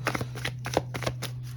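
Rapid riffling of a card deck being shuffled, a handful of crisp fluttering bursts close by.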